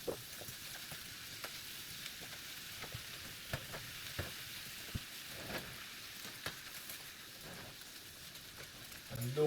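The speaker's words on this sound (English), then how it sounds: "I'm just get them going, sauteed, and then now I'll get back to you guys." Pumpkin and vegetables sauté in a lightly greased pan, a soft steady sizzle with scattered crackles and pops, fairly quiet and close.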